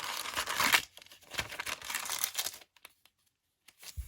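Scrapbook and journaling papers in a handmade witchy journal crinkle and rustle as they are handled, a close burst of crumpling and tearing-like crackle that fades into brief quiet pauses.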